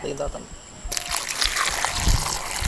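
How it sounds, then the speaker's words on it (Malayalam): Water poured from a vessel over snake gourd being washed in a kitchen, a close trickling and splashing stream that grows louder midway, with people talking faintly. "ഓക്കെ, അപ്പോൾ ഞാൻ വെള്ളം ഒഴിക്കാം."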